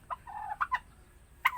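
A male turkey gobbles close by, a short burst of throaty warbling calls followed by a sharper gobble near the end, heard alone over a quiet background.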